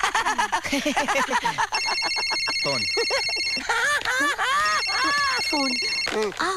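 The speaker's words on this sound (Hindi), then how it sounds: "फोन।" A telephone rings in a home with a bright electronic tone that comes in two long bursts, mixed in with people talking and laughing over it.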